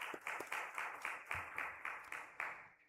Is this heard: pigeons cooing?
no